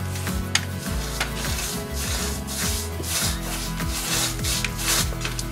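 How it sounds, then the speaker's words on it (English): A paintbrush scrubs BG2000 damp proofing coating into basement corners with continuous close rubbing and bristle scratching, in a quick irregular rhythm and without speech. "So you keep a typical paintbrush with you, and just in the corners, you can just saturate the material."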